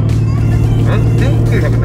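Engine drone of cars driving on a race track during a Porsche Day sports-driving session, a loud steady hum heard close from inside a car, with a person talking over it.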